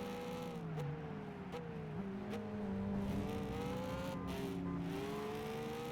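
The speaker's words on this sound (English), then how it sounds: "my car sounds like this because of the muffler I put on it" A car fitted with an aftermarket muffler in Gran Turismo 5 drones steadily, its engine tone stepping up through gear changes as it accelerates, a continuous buzzy exhaust note heard alone.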